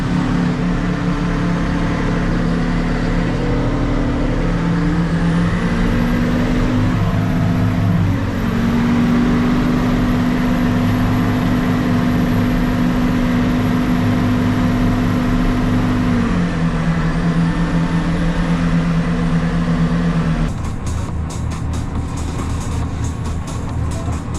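Valtra tractor engine running steadily and loud, a high air filter whistle held over a constant low drone, with the tone shifting partway through before a rougher close.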